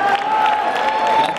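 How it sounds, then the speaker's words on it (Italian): Brief burst of audience applause and cheering at a live band concert, steady crowd clapping filling the whole moment. "L'applauso"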